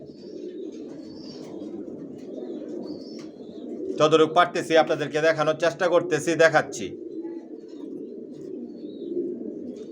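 Original Johnson-line racer pigeons coo in a low continuous murmur nearby, under a voice that talks over them for a few seconds in the middle.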